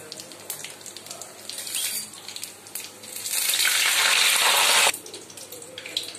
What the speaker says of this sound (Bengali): তেলটা আমার গরম হওয়াতে আমি দুটো তেজপাতা আর একটা শুকনো লঙ্কা চিরে দিয়ে দিয়েছি। এবার আমি পাঁচ ফোড়ন দিলাম।